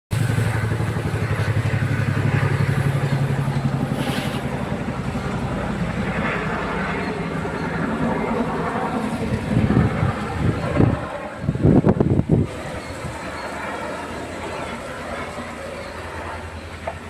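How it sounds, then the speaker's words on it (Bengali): An airplane taking off or landing at nearby Bagdogra airport, a low droning roar that is strongest at first and slowly fades, with brief close clatter and noise midway. "আমাদের বাগডোগরা বিমানবন্দরটা বাড়ির পাশেই, যার জন্য আমরা সবসময় বিমানবন্দর থেকে প্লেন উঠতে দেখি আর নামতে দেখি।"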